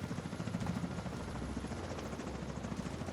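A video game helicopter in a multiplayer shooter set in Washington drones steadily with a dense rotor thrum, continuous and fairly loud, with no voices over it.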